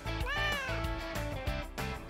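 A cat meows in a rising, drawn-out call followed by shorter mews, close and clear with no talking over it.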